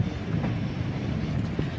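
A train rolls past Kazhuthurutty railway station, a steady low rumble of wheels and carriages heard up close with some wind buffeting throughout.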